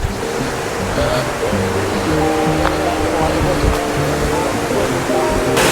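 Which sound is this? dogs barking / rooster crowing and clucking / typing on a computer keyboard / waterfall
waterfall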